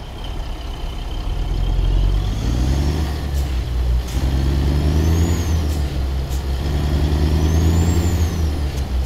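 An Autocar AT64 truck in American Truck Simulator pulls away from a standstill. The engine drones loud and steady as its pitch climbs through several gear steps, with faint whistles and clicks on top and no talk.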